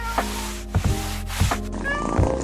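A cat meows three or four times in quick succession, close by, each cry short and rising over a low background hum.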